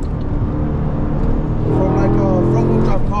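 Pontiac G8 GT with a manual gearbox, its engine rumbling steadily from inside the cabin with soft exhaust burbles, while people talk over it.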